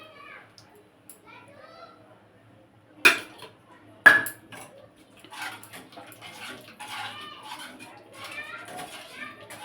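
A bowl that held curd is rinsed and the water tipped into a pot of potato biryani, with two sharp clinks of the bowl followed by light splashing and running water, faint voices murmuring in the background.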